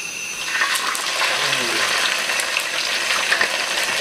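Eel sizzling and crackling in hot cooking oil, a steady dense frying hiss that fills the whole clip at close range, with faint voices now and then underneath.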